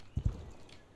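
Two quick hoof clops from a horse in a video game, close and loud, then quiet with no talk.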